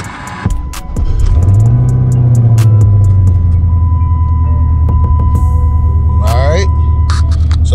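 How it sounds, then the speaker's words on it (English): Cammed Dodge Charger R/T V8 cranks and fires after a throttle body relearn, briefly flaring in revs before settling into a loud, steady, choppy idle close by. "Now I can start my car."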